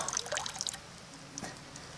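Water trickling and splashing while a bottle is refilled outdoors, faint bubbly dribbles that are busier at the start and then fade to a soft steady flow.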